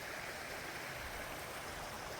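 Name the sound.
stream flowing into river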